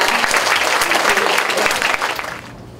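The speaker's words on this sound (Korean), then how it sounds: "다시 한번 큰 박수 부탁드립니다." An audience at a Korean author's lecture concert bursts into dense, loud applause that holds steady and then tapers off at the end.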